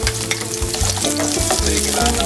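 Onion frying in about two tablespoons of hot olive oil for buttered stir-fry vegetables, a close, continuous crackling sizzle with steady stirring throughout and no voices.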